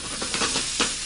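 Scallops and carrots tossed in a hot frying pan give off a close, hissing sizzle that swells in a few short bursts as the food is flipped.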